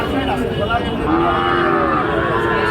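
Cattle moo in long, low drawn-out calls at a busy wholesale cattle market, fairly loud and close, with murmuring voices of a crowd underneath.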